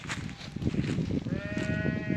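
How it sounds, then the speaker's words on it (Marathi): Sheep bleat in a farm pen in rural India, a cluster of bleats over a busy background of animal noise, with a tonal whine appearing partway through. "आता मेंढ्याची लय मजा येणार आहे"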